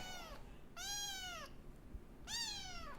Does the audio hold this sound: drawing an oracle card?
no